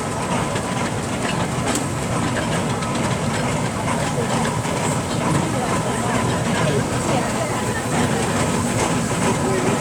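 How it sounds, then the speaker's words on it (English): A 1919 Fowler steam ploughing engine, twenty tonnes, rolls past in a rally parade with a steady rumbling chuff and mechanical clatter, continuous and fairly loud against broad outdoor noise. "Number 14 is a Fowler ploughing engine."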